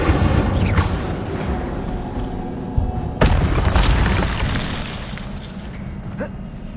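An Incendio fire spell cast in Hogwarts Legacy on PS5 bursts out as a loud whooshing flare with two heavy booming hits about halfway through, then fades under steady game noise.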